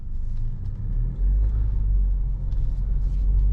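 Geely Coolray 2024 with 1.5-litre turbo petrol engine and 7-speed dual-clutch automatic pulls away, a low cabin rumble swelling after a moment and holding steady, heard from inside at night.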